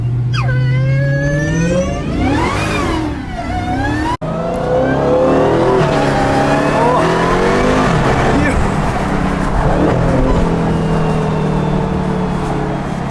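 A loud SRT Hellcat Redeye engine, 797 horsepower, revs and accelerates hard, its pitch sweeping up and down, with voices over the roar.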